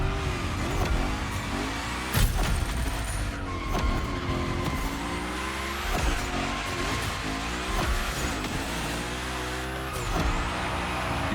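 A Hoonicorn drifts through a gymkhana course in The Crew Motorfest, its engine roaring continuously while the tires squeal through long slides. Revs rise and fall repeatedly and a few sharp bangs cut through the engine noise.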